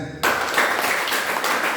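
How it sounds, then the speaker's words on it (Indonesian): Applause from students at a vocational high school orientation session, a steady wash of clapping that starts abruptly after a brief quiet moment and continues evenly. "Tepuk tangan."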